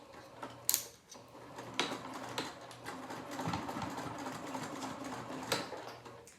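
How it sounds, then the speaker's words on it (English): A sewing machine bastes the ends of fabric for a Devon Pouch, close up, in short bursts of rapid stitching broken by brief pauses and small mechanical clicks. "So I'm going to go ahead and baste the ends first."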